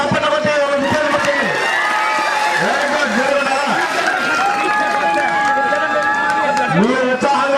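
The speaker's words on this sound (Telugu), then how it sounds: "క్రీడాభిమానులందరూ ఒకసారి గట్టిగా చప్పట్లు కొట్టి ఒక విజయాన్ని కొట్టి" A crowd of spectators at a rural kabaddi tournament cheers and shouts continuously, a dense, loud outdoor din of many voices with whoops, some clapping mixed in.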